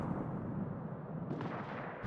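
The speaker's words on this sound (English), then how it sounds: "I begin to unleash hell with the mighty artillery of the Marseille" Naval artillery from the cruiser Marseille in World of Warships booms heavily, a deep rumbling blast that rolls on with a sharper crack of fire near the end.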